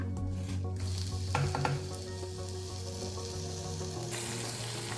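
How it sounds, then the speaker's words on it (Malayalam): Crushed spices for a pepper fish curry fry in oil in a clay pot, giving a steady close sizzle with occasional stirring scrapes and no talking. "നല്ലോണം നമുക്കൊന്ന് ജസ്റ്റ് ഫ്രൈ ചെയ്തെടുക്കാം."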